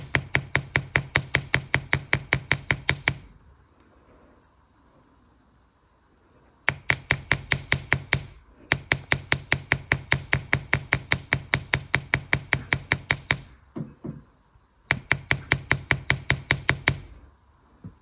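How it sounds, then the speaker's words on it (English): Rapid, steady metallic taps of a ball-peen hammer texturing wire for earrings, in long runs, bright and close, pausing briefly between bursts, with no talking. "using the round nose of our hammer, the ball of the hammer, put some scales on there"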